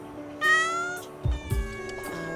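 Several cats meow loudly in a cramped hoarding house crowded with hundreds of animals, with overlapping cries against a low background rumble.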